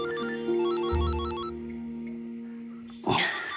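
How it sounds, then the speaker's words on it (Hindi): A melodic phone ringtone plays with a repeating electronic tune, fairly clear, then a short rustle near the end. "किसका फोन है?"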